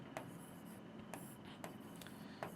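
A pen scratches across paper while a maths problem is worked out by hand, with quiet, close strokes in short bursts and small taps between them.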